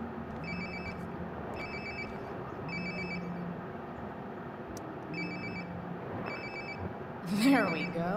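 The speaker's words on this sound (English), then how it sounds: "Sounds like my phone is definitely nearby." A mobile phone rings nearby in a repeating electronic pattern of short, bright tone bursts with brief gaps, over background room noise, with a rustle near the end.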